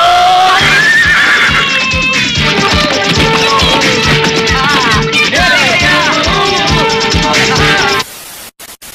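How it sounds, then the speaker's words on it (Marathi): A horse neighs and whinnies over loud music with a steady beat, the calls rising and falling across most of the stretch before the sound cuts off near the end. "हे बघा भावांनो, आज घोडा पण घेऊन आलो."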